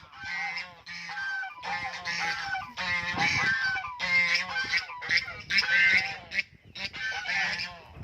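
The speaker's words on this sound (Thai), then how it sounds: "ได้ยินแต่เสียงห่าน" Geese honk loudly and repeatedly beside a Thai vegetable garden, with dense overlapping calls from a nearby flock running continuously throughout.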